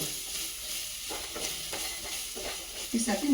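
Garam masala sizzles and fries in hot oil for a mushroom masala curry, with a steady, close crackle and occasional stirring scrapes.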